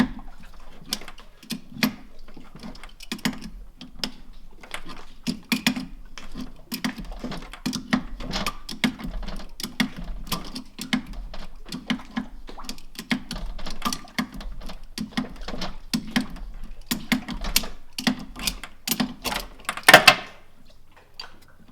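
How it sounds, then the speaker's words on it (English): A wrench works on the large nut of a boat lift's hydraulic line, giving repeated metallic clicks and ratcheting ticks in a steady rhythm, close and fairly loud, with a sharper clank near the end. "Open-ended goes on the large nut, lefty-loosey."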